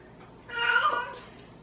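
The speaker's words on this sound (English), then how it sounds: "My cat." A house cat lets out a single drawn-out meow at close range, rising and falling over about a second against a quiet kitchen background.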